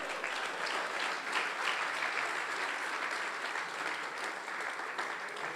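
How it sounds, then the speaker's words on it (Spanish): A church congregation at a Sunday school service applauds, a dense, even wash of many hands clapping at a steady level for several seconds, with no voices on top. "Yo pensé que usted iba a aplaudir al Señor."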